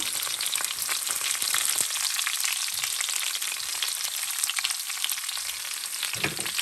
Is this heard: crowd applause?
no